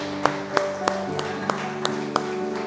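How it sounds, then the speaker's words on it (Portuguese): Clapping from a church congregation in time with music, six sharp evenly spaced claps about a third of a second apart over sustained instrumental tones. "Dá uma salva de palmas ao Senhor aí"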